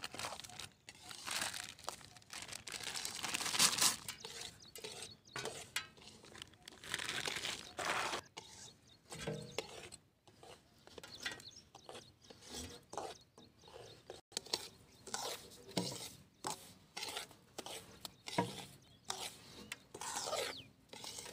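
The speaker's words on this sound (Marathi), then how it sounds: "यामधून आता आपण गूळ कापून घेणार आहोत बारीक करून" A knife cutting a 1 kg block of jaggery into small pieces, quiet scraping and crunching strokes in uneven bursts with short pauses between, close up and faint.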